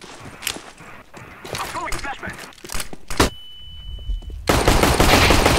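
Rapid automatic gunfire bursts from a shooting video game, loud and sharp with a sustained beep and a dense noisy blast near the end, while someone talks excitedly over the action.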